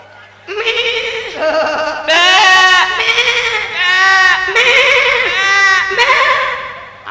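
A goat bleats repeatedly, loud and close, a series of long wavering cries with brief pauses between them, standing alone without talk over it.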